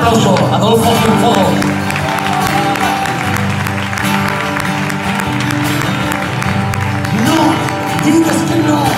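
A concert crowd at a tribute show applauds and cheers loudly for a singer, sustained clapping mixed with a band playing and some voices, fading somewhat before swelling again.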